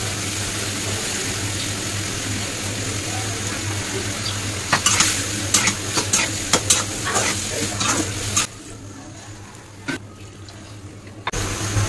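Loitta dried fish curry being sautéed in a pan, with stirring scrapes and utensil clinks over a steady sizzle; the sizzle and stirring drop away near the end, leaving a quieter stretch.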